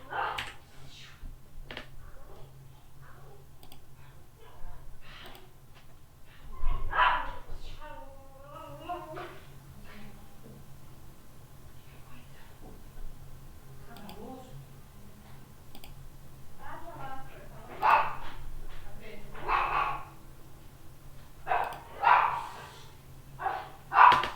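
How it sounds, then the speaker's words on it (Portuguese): A dog barks in short bursts now and then, somewhat distant, amid quiet clicking and occasional speech in a room. "Deixa eu fazer esse cachorro parar de latir aqui"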